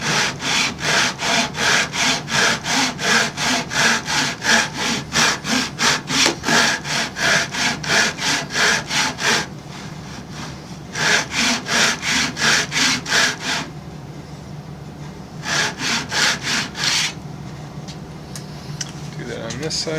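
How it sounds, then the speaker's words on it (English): Shark saw cutting by hand into the wooden tenon of a Les Paul guitar neck, a fast steady run of rasping back-and-forth strokes, close and loud, with brief pauses between cutting bursts. "So I got my favorite shark saw. I'm just going to cut to the inside of the tenon."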